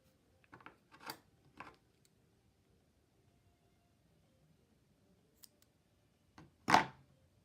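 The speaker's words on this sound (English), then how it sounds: "now I'm going to cut that little piece off there." Scissors snip off a small tail of yarn while crocheting a velvet hair scrunchie: a few quiet, close clicks early, then a louder single snip after a pause, over near silence.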